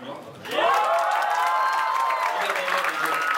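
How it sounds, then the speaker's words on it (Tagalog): A short burst of audience clapping swells up at a dealers' orientation, with a speaker's voice carrying over it. "Ganyan lang ang palakpak ninyo."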